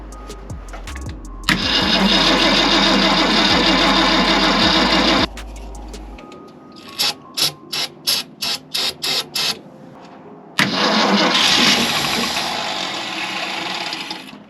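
A 1965 Ford Galaxie engine cranks and roars for several seconds, cuts out, sputters in a string of short rhythmic bursts, then catches and runs loudly again.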